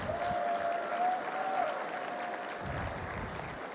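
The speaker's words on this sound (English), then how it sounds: "Let's have a round of applause for all of the generosity that supports our scholarship program." A banquet room full of people applauding, steady continuous clapping that fades slightly toward the end, with a faint tone ringing briefly early on.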